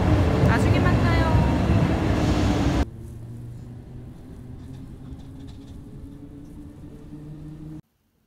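A loud, steady rumble of a subway train for about three seconds, then a quieter hum of the carriage interior with faint tones before it cuts off.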